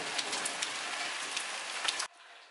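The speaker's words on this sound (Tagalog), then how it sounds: "Ngayon, ang lakas ng ulan." Heavy rain with ice mixed in pours down hard in a dense, steady roar close by, with a few sharper drops, then cuts off abruptly near the end.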